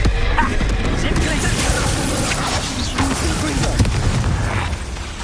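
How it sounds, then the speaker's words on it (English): Spell explosions and magical combat from the video game Hogwarts Legacy, dense rumbling booms and crashes running continuously at high volume for the whole stretch, with a few sharper bursts and no pauses. "Is that explosion?"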